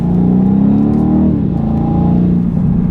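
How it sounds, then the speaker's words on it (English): A deep V8 engine in a 2019 BMW M850i xDrive coupé revs hard and climbs in pitch as the car accelerates through low gears, a steady loud rumble that dips briefly before pulling up again. "You really have this nice V8 grumble in this car"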